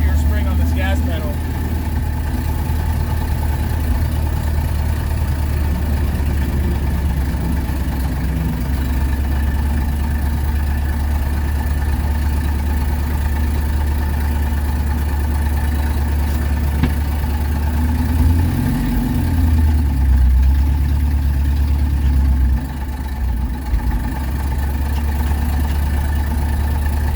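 A 1926 Chrysler engine, revived after years of sitting, idles steadily with a low, even rumble throughout, close and continuous, with a slight shift in tone partway through.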